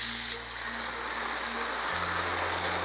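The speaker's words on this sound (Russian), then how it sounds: "к ним теперь добавляю лук. И все еще немного поджариваю" Mushrooms and sliced onion fry gently in a pan, giving a soft, steady sizzle with a low hum underneath and no voices.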